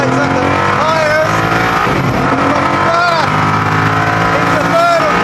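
A high-performance car accelerating hard in first gear with traction control off, engine roaring loud and close as the tyres spin and squeal, continuous and intense throughout, with a voice speaking over it.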